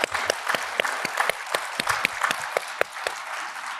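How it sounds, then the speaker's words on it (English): An audience at a conference fireside chat breaks into applause, a dense patter of many hands clapping at once with a few sharper claps poking through, moderately loud and without speech. "I want to hear a round of applause for that."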